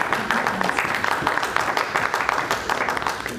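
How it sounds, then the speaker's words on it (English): A modest audience at a talk claps steadily for the presenter. The individual claps are close and distinct, with faint murmuring underneath. "A big round of applause for Jennifer."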